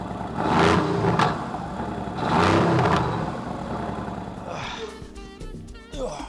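Mercedes-AMG GT R V8 engine revving through its exhaust, two strong swelling rev bursts nearby, then a lower uneven rumble as it settles, with some noise fading toward the end.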